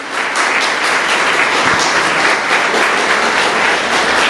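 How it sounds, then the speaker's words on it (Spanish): A church congregation claps for the Lord in loud, sustained, even applause filling the hall without pause. "quiere darle palmas al Señor"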